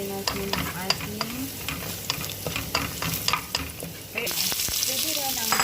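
Garlic frying in a pan for chicken biryani, with steady sizzling broken by repeated scraping and stirring clatters close by. The sizzle grows a little brighter near the end.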